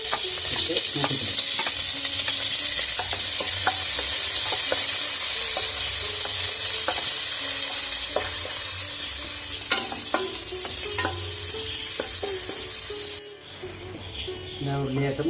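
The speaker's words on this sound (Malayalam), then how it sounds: "നമുക്ക് ഉള്ളിയും വെളുത്തുള്ളിയും കറിവേപ്പില കൂടി ഇട്ട് മൂപ്പിക്കണം." Onion, garlic and curry leaves fry in hot oil for a Kerala beef and jackfruit dish, a continuous loud sizzle with repeated stirring scrapes up close, easing near the end before a brief cut.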